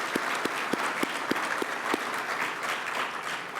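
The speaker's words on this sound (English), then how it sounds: "Let's have another round of applause for our sponsors." A crowd applauds sponsors at a civic state of the city address, steady indoor clapping with a few louder individual claps standing out near the start, fading slightly toward the end.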